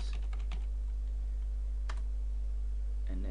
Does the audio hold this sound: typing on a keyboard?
yes